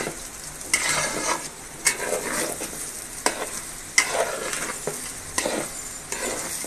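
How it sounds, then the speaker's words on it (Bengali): Rice for pulao frying in a pan sizzles steadily, with repeated bursts of louder hissing and scraping as it is stirred, close and clear with no talking. "এই পর্যায়ে আমি পানি দিয়ে দিব।"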